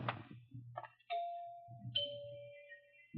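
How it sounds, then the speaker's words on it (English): Doorbell chimes ring in a house vestibule, sounding two clear sustained tones one after another with soft footsteps and shuffling beneath, fairly quiet and close. "Nice chimes."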